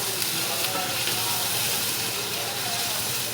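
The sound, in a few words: garlic, ginger and onions frying in a pan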